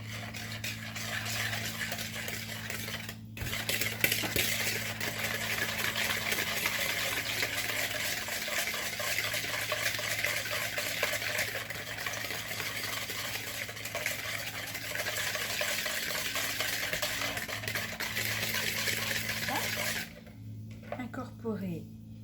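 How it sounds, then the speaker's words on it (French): Melted butter is whisked with vanilla sugar in a bowl, giving a rapid, steady scraping rattle that runs for about twenty seconds at moderate volume. "j'ai fait fondre donc le beurre que je vais fouetter donc avec le sucre"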